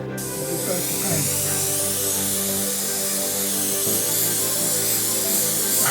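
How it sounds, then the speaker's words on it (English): Airbrush spraying paint in a hobby workshop, a steady hissing spray running continuously and close, with a brief change partway through. "it's really nice to have my airbrush operating again"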